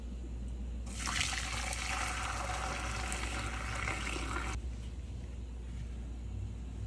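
Brewed black tea, for homemade boba, pours through a strainer in a steady liquid rush of about four seconds, close and fairly loud, then stops, leaving a quiet room background.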